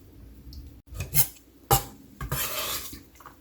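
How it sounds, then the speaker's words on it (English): Chopped apple pieces are stirred with honey and nuts, among them pistachios, cashews and walnuts, in a metal bowl. A spoon clinks and scrapes close by in a few sharp knocks, then a longer scraping swirl. "And then we'll mix the pieces with honey and nuts"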